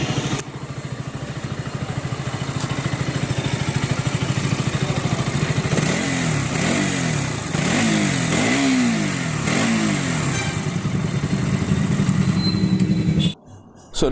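A 2022 KTM RC 200 motorcycle engine fires up and idles steadily close by, then is blipped through several rising and falling revs before settling, with no talking over it.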